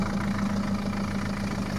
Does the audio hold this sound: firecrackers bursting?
no